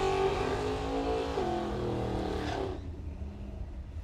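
A 1957 Chevy drag car at a drag racing event roars loudly nearby, then the engine note cuts off sharply, leaving a faint rumble.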